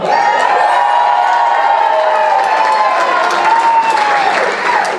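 A crowd at a charity gala auction cheers and applauds loudly and continuously, with whoops and shouts mixed into a dense, steady roar.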